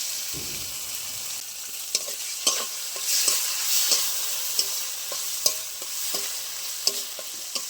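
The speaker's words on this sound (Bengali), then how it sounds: "ভালো করে মশলাটা ভেজে নিয়ে যাচ্ছি।" Spice masala for a fish curry with ridge gourd and bhola fish, seasoned with turmeric and ground green chilli, sizzles steadily in a pan under a spatula's repeated scraping strokes, with sharp clicks every second or so.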